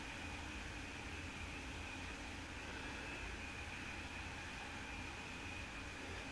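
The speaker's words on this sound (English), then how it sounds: "Just listen to that sound, that train." A train rolls along in Train Sim World 2, giving a constant low rumble mixed with airy hiss. The tone stays steady and fairly quiet throughout, with no voices.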